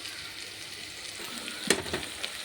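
Ginger-garlic paste frying in hot oil gives a low, steady sizzle, with a brief stirring clatter near the end and a couple of softer pops after it.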